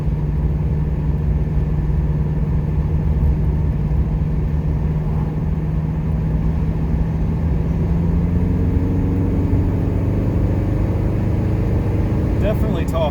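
A 1979 Pontiac Trans Am with a stock 403 V8 hums steadily while cruising, a low, even engine drone from inside the cabin that rises slightly in pitch near the end, with someone talking over it.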